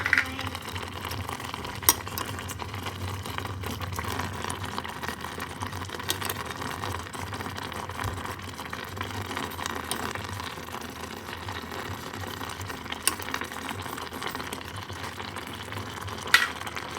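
Laing made from taro leaves is stirred and mixed in a cooking pan, giving a continuous low sizzle with repeated scraping and occasional clinks of the utensil against the pan, close up and with no talking.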